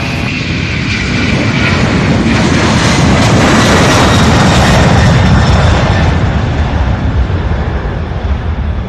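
A heavy jet airliner roars down the runway on takeoff at Louisville's SDF airport, a loud, sustained engine rumble that swells and holds throughout.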